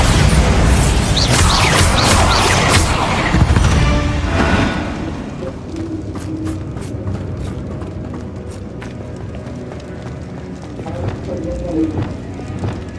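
A Bombarda explosion spell cast in the Hogwarts Legacy video game, a loud booming blast for the first few seconds with rumbling debris, then fading into quieter game ambience and scattered clatter.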